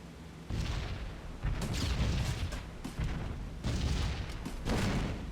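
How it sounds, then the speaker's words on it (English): Anti-aircraft flak bursts around a B-17 bomber in B-17 The Mighty 8th, four or five heavy booms spaced about a second apart over a low engine drone, loud and close. "Here comes the flak."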